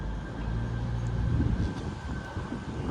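A train departing Stockport station for Manchester Piccadilly gives a steady, loud, low rumble that carries through the whole stretch with no voices.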